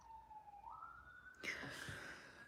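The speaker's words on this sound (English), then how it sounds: "That's the ambulance." An ambulance siren outside a home, distant and faint, its wailing pitch rising once before a louder burst of nearby noise cuts across it.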